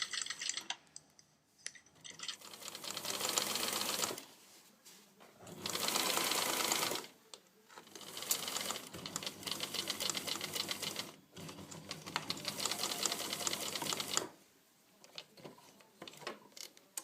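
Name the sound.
sewing machine stitching skirt seam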